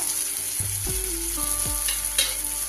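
Fried dried loitta fish goes into cooked spice paste with oil separated for a spicy shutki chorchori, making a continuous close sizzle with a few stirring knocks and no talk.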